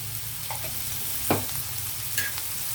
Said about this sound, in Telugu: నేను కొద్దిగా అల్లం వెల్లుల్లి పేస్ట్ వేస్తున్నాను, ఒక 1/2 స్పూను టేస్ట్ కోసం.